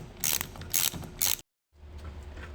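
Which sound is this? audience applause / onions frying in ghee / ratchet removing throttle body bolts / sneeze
ratchet removing throttle body bolts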